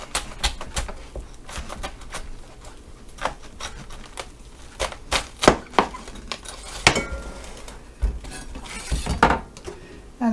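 A knife shreds cabbage on a cutting board in a run of sharp, uneven chops and taps, close by and moderately quiet, with no talking.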